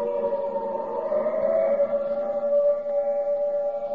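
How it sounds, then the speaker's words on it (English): A civil defense air raid siren wails in a steady drawn-out tone that rises and falls slightly, loud and alone with no voices. "The siren is a musician of no value, knowing only one tune"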